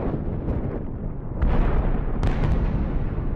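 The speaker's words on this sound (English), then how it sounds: "it took a few moments for the sound of the explosion to reach them" A deep, rumbling explosion sound effect rolls on continuously, swelling with a heavier burst partway through and another sharp crack soon after, loud and without voices.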